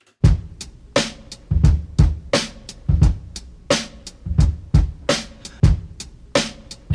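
A punchy breakbeat drum loop plays alone, kicks, snares and crisp hi-hats hitting in a steady, repeating groove.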